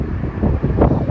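Wind buffets the microphone beside a 2018 Tesla Model X electric SUV outdoors, a steady, loud, low rumble with no clear voices.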